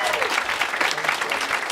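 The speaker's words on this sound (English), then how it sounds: "A big round of applause for everyone here tonight." Dense applause from a live show audience, loud and continuous throughout with no breaks, a close crowd clapping steadily.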